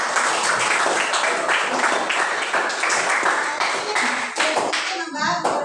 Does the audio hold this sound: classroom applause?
yes